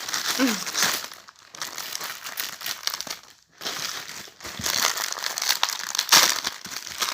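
Paper crinkles and rustles loudly up close as something is unwrapped, with crackling bursts, a brief pause midway, then more crumpling.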